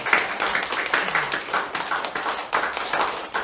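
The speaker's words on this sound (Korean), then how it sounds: "박수 한번 주세요" Congregation applauding during a Sunday church service at 청지기교회, welcoming members who moved near the church; a steady, moderately loud patter of many hands with faint voices underneath.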